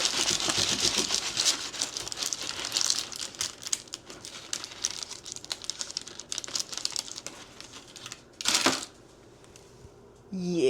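A knife saws through a warm loaf of fresh homemade bread, a steady close crackling rasp of crust being cut that ends in a brief louder crunch, followed by near silence.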